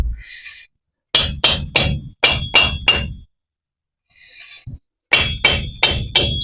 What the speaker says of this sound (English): I'm gonna tap it on with a dead blow hammer so as not to damage it.